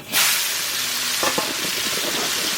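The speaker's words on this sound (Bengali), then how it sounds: "ভাজবো সর্ষের তেল," Slices of pointed gourd fry in mustard oil, a steady close sizzle with a brief clatter of stirring partway through, no voices.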